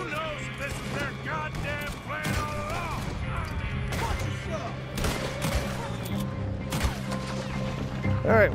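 Gunfire rings out in Red Dead Redemption 2 during a Chapter 6 shootout, with repeated sharp shots over a busy mix of game sounds, voices and music. Bursts keep coming steadily, loud and close.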